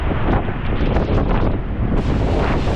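Strong wind roars against the microphone over sea waves breaking on the rocks of the shore at Visakhapatnam, a constant loud rushing wash with no pauses.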